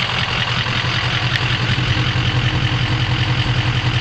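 A Ford F350 Powerstroke diesel truck idles, its engine a loud, steady, evenly pulsing low rumble held for several seconds, close up, with no talking.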